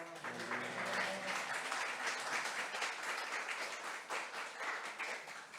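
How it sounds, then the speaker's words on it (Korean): A church congregation at Sunday worship claps to welcome a missionary to the front, producing dense, sustained applause that fills the room at an even level. "우리 선교사님 나올 때 할렐루야로 또 박수로 우리 뜨겁게 환영해 주시기 바랍니다."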